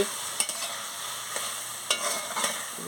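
A spoon stirs a curry of boiled potato, vegetable stems and ivy gourd in a pan, with soft scraping strokes and occasional clinks over a faint, steady sizzle, close and with no voices.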